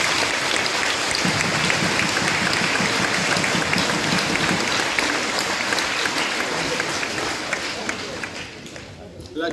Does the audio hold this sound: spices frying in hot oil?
no